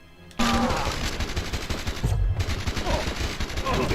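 Tank in the video game Destroy All Humans firing its guns in a dense, continuous rattle of rapid shots with heavier blasts mixed in, loud and close.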